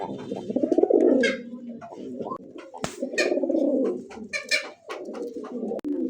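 Satin pigeons coo loudly and close in deep throaty rolling phrases that repeat with short pauses. Other birds in the flock add faint chirps and a few sharp clicks.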